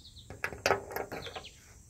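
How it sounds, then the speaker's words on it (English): An unidentified bird calling outdoors, a quick run of chirpy, sharp notes in an irregular rhythm, moderately close over faint background noise. "No idea what type of bird that is."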